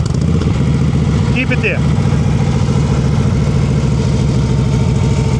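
Motorcycle engine idling roughly and close to stalling as the rider feeds too little throttle preload during slow-speed riding practice, a steady shaky rumble running throughout with a person speaking over it.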